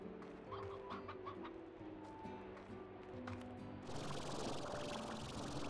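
Chicken clucking from the video game Slime Rancher, a run of short clucks over a soft game backdrop that gives way to a louder hissing wash partway through.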